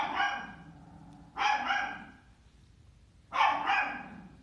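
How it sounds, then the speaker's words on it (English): A dog out in the hallway gives three separate barks, spaced apart and heard faintly from beyond the room. "Ruby can hear a dog in the hallway barking."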